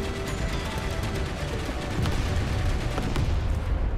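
Roof-mounted machine gun on a T-55AM-1 tank in War Thunder firing a steady, loud burst of rapid shots over rumbling battle noise.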